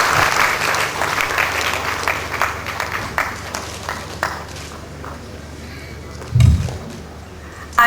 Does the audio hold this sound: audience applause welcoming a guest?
yes